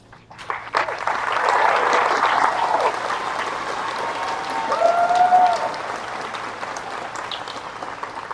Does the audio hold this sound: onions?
no